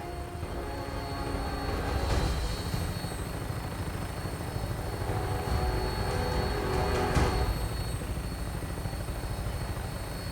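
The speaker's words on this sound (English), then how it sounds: "Tinker's gonna keep the vertibird spooled for an immediate takeoff" A vertibird aircraft in Fallout 4 holds a steady, loud engine drone with a rotor-like churn that swells slightly around the middle and stays continuous throughout, with no voices.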